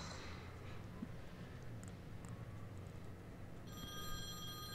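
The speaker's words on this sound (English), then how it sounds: "Oh, here we go. Phone's ringing." A phone rings inside the video game FIFA 17, a faint repeating electronic trill rising over a low, steady background of game ambience and music, with the ring tones growing clearer toward the end.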